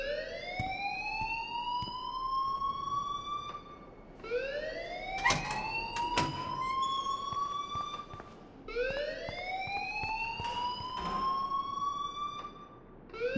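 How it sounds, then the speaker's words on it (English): A loud, repeating electronic alarm blares in the video game Life is Strange, rising whoops sweeping up and settling into a steady tone, cycling about every four seconds, with sharp clicks and thuds cutting through. "please turn off that alarm since that's your job"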